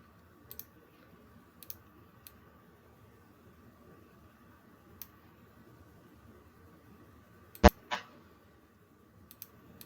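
A few sharp computer mouse clicks, close and isolated, separated by long quiet gaps over a faint background hum.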